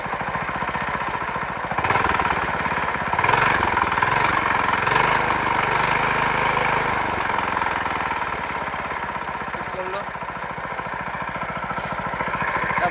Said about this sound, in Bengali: ইঞ্জিনের সাউন্ড চেঞ্জ হয়ে গেলো